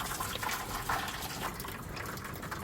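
Hot water poured steadily into a pan around a cheesecake for a water bath, a continuous close gushing fill with no pauses.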